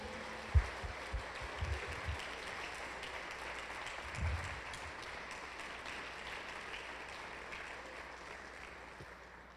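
Congregation clapping in a church during a worship congress service, a steady dense wash of applause filling the room for the whole stretch, fairly distant and reverberant, with a few louder thumps near the start.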